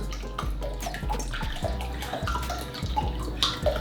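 Silver Swan soy sauce, a Filipino brand, is poured into a pan, giving a continuous close liquid trickle and glugging with small splashes.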